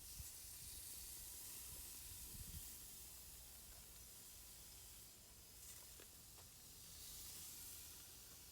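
Shrimp sizzle on a hot grill, a faint, steady hiss of spitting steam with a few soft crackles and pops scattered through, quiet and unbroken from start to finish.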